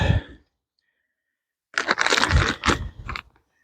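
A knife slicing through dahlia stems and tubers gives a short, close crunchy cracking burst with a couple of firm cuts, after a brief rustle and a pause of silence.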